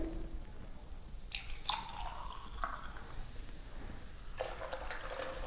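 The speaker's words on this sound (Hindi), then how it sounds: "और गाइस अब इसे हम अच्छे से मिक्स कर लेते हैं।" Several cold drinks being mixed together, heard as faint, close liquid sloshing with a few scattered drips and splashes over a quiet background, with no talking.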